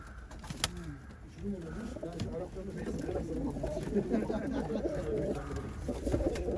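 Pigeons of the Arab breed coo in a loft, low soft calls repeating steadily throughout while nearby birds shuffle.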